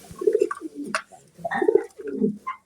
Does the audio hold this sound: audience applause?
no